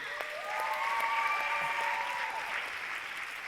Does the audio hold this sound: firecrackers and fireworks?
no